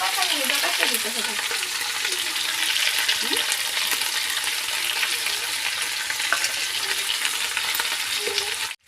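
Chili, cumin and coriander paste frying in a pan for tomato rice, a loud, continuous close sizzle with faint stirring scrapes throughout.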